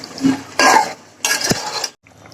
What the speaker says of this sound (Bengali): তরকারিটা ভালোভাবে আমি কষাই নেব।